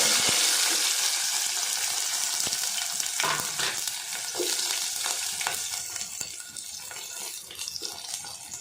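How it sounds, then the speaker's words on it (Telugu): Tempering spices sizzle loudly in hot oil while making ridge gourd dal, a dense hiss with sharp crackles and pops that eases off slightly toward the end. "పోపు వేసుకుంటున్నాను"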